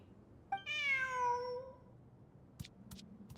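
A cat in the video game Genshin Impact gives a single clear, drawn-out meow, close and fairly loud, followed by a few faint clicks and quiet background.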